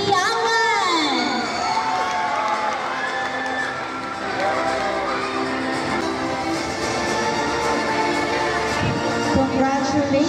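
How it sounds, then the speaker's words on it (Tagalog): School pageant audience clapping and shouting, with excited children's cheers, whoops and high squeals layered over a continuous crowd roar that stays loud throughout. "Muli po natin silang palakpakan ng masigabo na may kasamang hiyawan."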